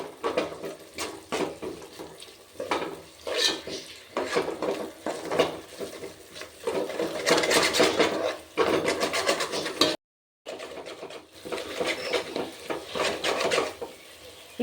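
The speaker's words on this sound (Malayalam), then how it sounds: "കൈ വിടാതെ ഇളക്കിക്കൊണ്ടിരിക്കണം" Date payasam for Onam is stirred continuously in a pan, a ladle scraping and rubbing the bottom in repeated strokes, loud and close, with a short break near the end.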